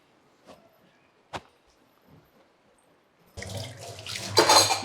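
Kitchen tap water starts running loudly into a sink during dishwashing, a steady broad rush after a few soft knocks and clatters, growing stronger near the end.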